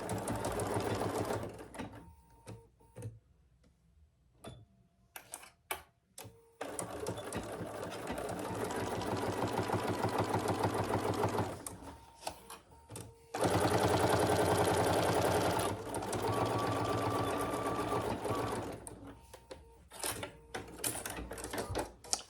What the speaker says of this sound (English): This short edge we're going to sew.